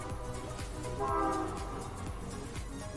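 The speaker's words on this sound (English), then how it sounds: "Sorry about the train in the background." A train passing nearby, a continuous low rumble and rolling clatter with a brief horn-like tone swelling in the middle, loud and steady for the whole stretch, with no talking over it.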